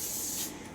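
A short, close hiss as cooking spray coats the inside of a well-used Ninja slow cooker, one continuous burst lasting under a second.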